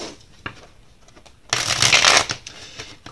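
Tarot cards are shuffled for a reading, with a few soft taps and then a loud, close riffle of about a second that fades into small card handling noises.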